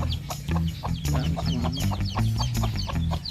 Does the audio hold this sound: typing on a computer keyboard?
no